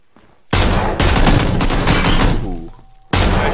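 Loud, dense burst of pistol gunfire in the video game PUBG, sharp cracks running together for about two and a half seconds, then a second blast after a short lull.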